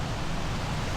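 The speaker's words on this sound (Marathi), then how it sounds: "भात शेतातून येणारे जे पाण्याचे झरे आहेत खळखळणारा पाण्याचा आवाज आहे तो ऐकायला येतो आहे" Streams of water run down from rice fields in the Sahyadri hills during rain, giving a dense, steady rushing wash with no talk.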